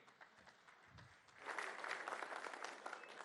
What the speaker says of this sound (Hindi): तो जोरदार तालियां आनंद नरसिम्हन के लिए